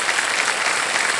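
Studio audience applause on the Kaun Banega Crorepati quiz show set, a loud, dense and continuous burst of clapping from a full crowd.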